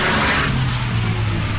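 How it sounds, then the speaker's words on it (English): Iron Knight, a Volvo record-breaking racing truck on Goodyear truck tyres, approaches during a 1,000-meter speed record attempt, its engine rumbling steadily as a low, loud drone with broad road and wind noise throughout. "Here in the background, our truck's coming."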